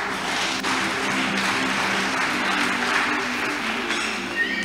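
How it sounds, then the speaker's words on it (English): A church congregation applauds during a sermon, a broad continuous clapping from many people that holds steady for several seconds, fairly loud and without speech. "Why can't you clap for him?"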